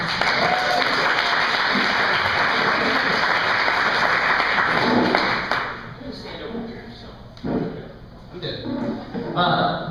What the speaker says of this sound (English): Let's give Dan a big round of applause.